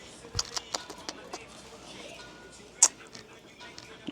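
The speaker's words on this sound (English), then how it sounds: "Oh, look at this old dog." An old dog gives soft whimpers and yips in short bursts, close by, with light ambient noise around it and a person speaking nearby.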